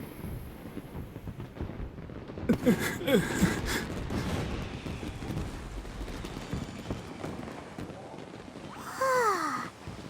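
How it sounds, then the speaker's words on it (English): Several firework bursts pop and crackle, with rising whistles near the middle and another whistling burst toward the end, over a low ambient background. "So, Yoimiya, these fireworks, what do they mean to you?"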